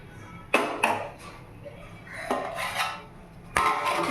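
A lid goes onto a pot of vegetables cooking for shukto with a few close metallic clanks and rattles, spaced out between short quiet gaps.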